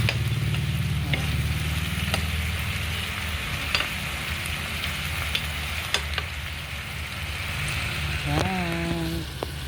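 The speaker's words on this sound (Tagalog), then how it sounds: "Ayan, kumukulo-kulo ang tinola." A pot of tinola, Filipino chicken soup, bubbles and simmers steadily with a crackling, sizzling texture, close by, with a brief voice near the end.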